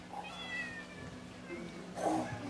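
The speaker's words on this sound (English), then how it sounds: "He's a black cat with white paws." A black cat with white paws meows twice, a faint drawn-out cry early on and a louder, closer meow near the end, over a low room hum.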